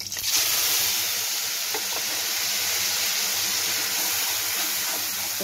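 Tomato puree poured into hot oil with a cumin tempering while making paneer in tomato puree bursts into a loud, steady sizzling hiss that holds evenly for several seconds, with faint stirring scrapes underneath.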